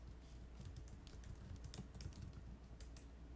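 Steady, rapid typing on a computer keyboard, a dense run of close key clicks alone with no voices, someone entering value names into a Microsoft Word document.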